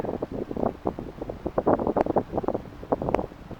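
Wind buffets the microphone on a sailboat tied to a mooring buoy, arriving in rapid, uneven gusts that rumble close and fairly loud for a few seconds.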